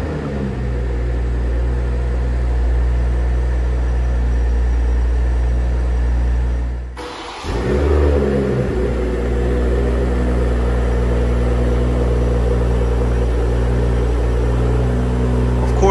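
A 2021 BMW M340i six-cylinder engine runs close by as a loud, steady low drone. Its tone dips and shifts briefly partway through, then it carries on evenly; no revving peaks stand out.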